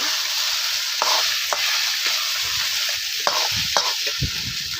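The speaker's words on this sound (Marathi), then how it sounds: "मस्त असं हलवून घेते" Sabudana khichdi with soaked sago pearls stirred in a pan, the spoon scraping and tapping the metal in several sharp strokes over a continuous hiss of frying, close up and with no voices.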